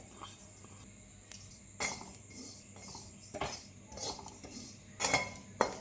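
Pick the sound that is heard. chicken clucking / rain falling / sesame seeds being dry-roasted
sesame seeds being dry-roasted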